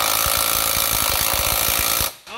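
A DeWalt impact gun rated at 400 foot-pounds hammers at a suspension nut on a 2006 Nissan X-Trail during lower control arm work, firing a rapid, steady burst of loud, close rattling blows for about two seconds before cutting off abruptly.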